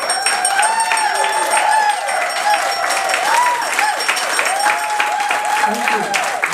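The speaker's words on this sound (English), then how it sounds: "I want nothing less than a standing ovation and the biggest round of applause" A large audience gives a standing ovation, a dense, sustained roar of clapping with a voice carrying over it the whole time.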